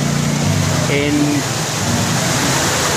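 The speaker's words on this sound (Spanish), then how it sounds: "Y hay suficiente agua después de 4 días de lluvia acá en el río Meléndez." Meléndez river running high after four days of rain, a steady broadband rush of flowing water at constant loudness, with someone talking over it.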